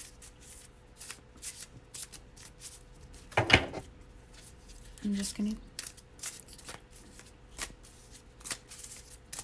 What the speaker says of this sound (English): Sometimes the cards just like want to be shuffled forever and ever and ever.